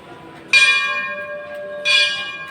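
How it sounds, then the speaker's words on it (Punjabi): Two clear metal temple bell strikes at a Shiv temple, about a second and a half apart, each ringing out with a bright sustained tone that slowly fades. "ਮੰਦਰਾਂ ਦੀਆਂ ਘੰਟੀਆਂ ਤੁਹਾਨੂੰ ਸੁਣ ਰਹੀ ਹੋਣੀਆਂ"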